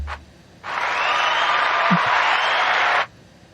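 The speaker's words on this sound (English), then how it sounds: "It was just clapping." A burst of steady, dense clapping starts suddenly, holds evenly for about two and a half seconds, then cuts off sharply, as if played back from a device, with quiet room noise before and after.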